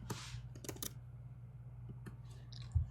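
Quick keystrokes on a computer keyboard tap out a short burst of typing, then a few scattered clicks over a low electrical hum, close and fairly quiet.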